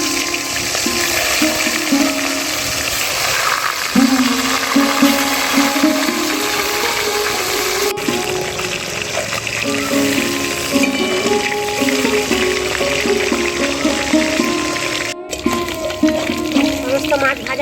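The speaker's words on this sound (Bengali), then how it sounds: "তেল গরম হয়ে গেছে, মাছগুলো ভেজে নেব।" Snakehead fish pieces fry in hot mustard oil in a wok, producing a steady bubbling sizzle beneath a voice talking nearby for much of the stretch.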